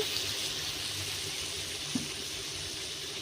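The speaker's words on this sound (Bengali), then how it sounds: "একটু অল্প জল দিয়ে দিচ্ছি সিদ্ধর জন্য।" Water pours into a cooking pot to boil potatoes and peas, a soft, steady hissing splash with one small clunk partway through.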